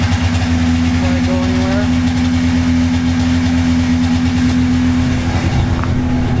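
A car engine idling on a cold start, warming up with a steady, loud low hum that holds constant, with a brief stir near the end and a voice faintly present.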